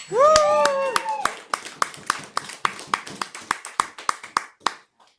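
A voice cheers briefly at the start, then a debating tournament audience claps in a steady, evenly spaced rhythm, each sharp clap distinct and close.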